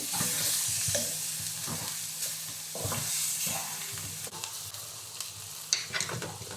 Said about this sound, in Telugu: ఇప్పుడు మనం దీంట్లో చికెన్ని యాడ్ చేసుకున్నాము.